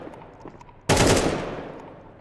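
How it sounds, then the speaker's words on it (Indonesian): A shotgun fires once in a video game, a single loud sharp blast that rings out and slowly decays, following a quiet stretch with faint background game sounds. "Shotgun. Nice."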